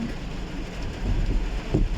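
Afternoon rain in Bacolod City, Negros Occidental, falls as a steady, close hiss with low rumbling underneath. It swells slightly toward the end, and no one is heard speaking.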